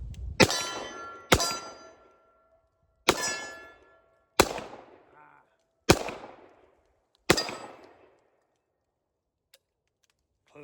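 A .44 Magnum revolver firing six big-bore lead loads: six sharp, loud reports spaced roughly a second or more apart, each with a ringing tail that fades before the next, followed by near silence.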